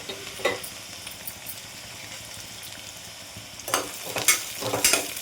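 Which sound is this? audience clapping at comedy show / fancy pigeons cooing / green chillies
green chillies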